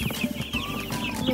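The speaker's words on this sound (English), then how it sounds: "Chickens!" Chickens from a flock of about 180 birds on a farm clucking close by, a busy overlapping chatter of short clucks and squawks with no pause.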